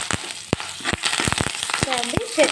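Curry leaves hit hot oil already holding urad dal, chana dal, cumin and mustard seeds for a tempering, giving a steady close sizzle and crackle with sharp pops. A voice talks over it.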